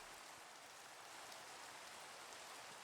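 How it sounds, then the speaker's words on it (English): Steady rain falls in a Minecraft world, a dense, even hiss of drops that holds at the same level from start to finish with no talk over it. "Seriously, Rain? I'm not a fan."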